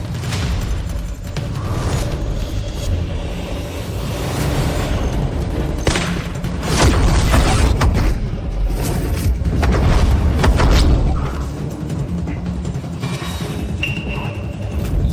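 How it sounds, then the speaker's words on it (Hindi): A sonic boom from someone breaking the speed of sound, heard as a loud, sustained booming rumble with heavy low-end blasts and thuds lasting the whole stretch, no talking over it. "ये सोनिक बूम है।"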